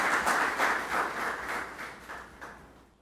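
Applause from an audience at a talk, a steady wash of many hands clapping that gradually fades out toward the end, heard alone without speech.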